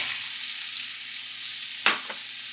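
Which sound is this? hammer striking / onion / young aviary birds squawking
onion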